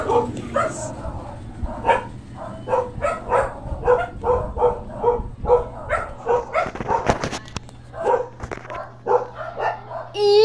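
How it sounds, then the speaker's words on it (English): A large dog barks in a steady run of repeated woofs and yips, close and loud, with voices talking over and between the barks. "it's a giant girl dog"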